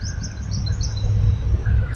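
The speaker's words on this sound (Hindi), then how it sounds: "जो आवाज़ आ रही है चिड़िया की," Birds chirp and tweet in scattered short high calls over a steady low background rumble, fairly quiet and with no voices.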